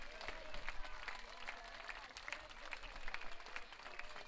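A crowd applauds after the 2018 Gilley's Shield netball grand final between NSW Firestars and Queensland Heat. The clapping is steady and sustained, spread across a large audience, with a faint murmur of voices underneath.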